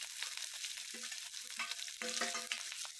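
Onion fries in oil with coriander and spices while it is stirred, producing a soft, low-level sizzle with intermittent scraping and clinking stirring sounds.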